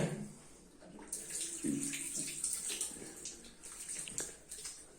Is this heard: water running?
yes